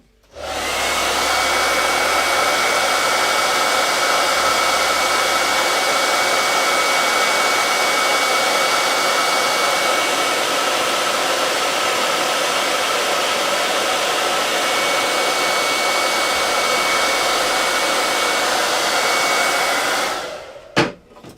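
A hand-held dryer blows hot air over wet paint on a reclaimed wooden Christmas sign, a loud, unbroken whooshing drone running for about twenty seconds before clicking off abruptly.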